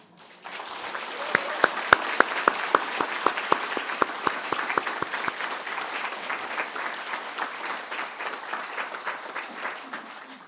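A church congregation in a reverberant hall claps together, starting with a few sharp, distinct claps and building into steady, continuous applause that lasts several seconds.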